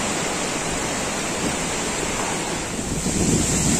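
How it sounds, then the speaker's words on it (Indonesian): A waterfall about 15 metres high roars as a dense, continuous rush of falling water, loud and steady throughout with a slight swell toward the end, and no voices. "Di sini air terjunnya cukup tinggi ya, sekitar 15 meter ke atas."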